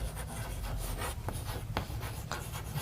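Chalk or marker scratching and tapping across a board during a geometry lecture on rhombus diagonals, a steady close rubbing texture with a few sharp stroke onsets and no speech.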